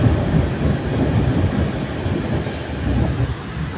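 A passenger train, running late through rain on a journey from Siliguri, rumbles steadily with a dense low roar and faint rail clatter, heard from inside the carriage with no talk.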